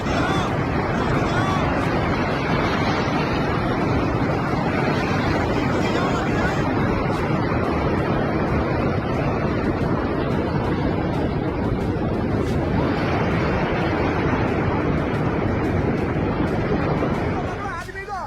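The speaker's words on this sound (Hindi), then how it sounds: "सड़कों पर सैलाब बह रहा है।" Heavy floodwater rushing through flooded streets and colony lanes in Ajmer after intense rain, a dense, continuous roar of churning water that stays loud throughout before fading at the very end, with a background murmur of voices.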